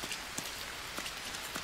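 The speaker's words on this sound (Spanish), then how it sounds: "se está lloviendo" Steady rain in the video game Green Hell patters on a surface, a dense hiss of droplets with a few louder drips standing out, continuous and without voices.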